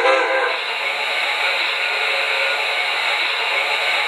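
An MTH PS3 Pennsylvania K4 Torpedo model train pulling passenger cars around a layout. A steady, loud, close hiss of steam and rolling noise runs throughout with a sustained whistle-like tone above it, and no one speaks.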